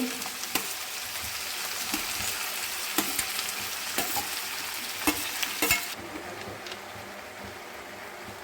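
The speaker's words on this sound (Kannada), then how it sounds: "ಉಳ್ಳಾಗಡ್ಡಿ ಹುರಿದ ನಂತರ ಹೆರಚಿ ಇಟ್ಟುಕೊಂಡ ಟೊಮೆಟೋವನ್ನು ಹಾಕಿಕೊಂಡು ಚೆನ್ನಾಗಿ ಹುರಿದ ಮೇಲೆ" Tomato frying with onions in a pan gives a steady sizzle, punctuated by irregular clicks and taps of stirring against the pan, with no one talking.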